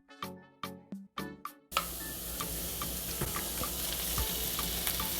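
Sichuan peppercorns, black pepper and fermented black beans fry for mapo tofu. A few ringing clinks come first, then a steady, close sizzle with scattered pops.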